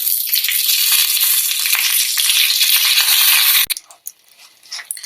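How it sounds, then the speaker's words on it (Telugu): Dried red chillies and curry leaves frying in hot oil with garlic give a loud, bright, crackling sizzle that cuts off abruptly near the end, followed by a few clinks and faint sizzling. "ఎండుమిర్చి, కరివేపాకు వేసుకుందాం."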